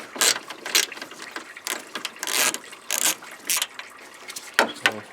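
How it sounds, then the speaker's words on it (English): Ratchet wrench loosening 10 mm nuts from a radiator assembly on a 2002 Nissan Maxima, with bursts of quick close clicking separated by brief pauses, fairly quiet. "go ahead and remove these bolts. These should be 10 millimeter nuts as well"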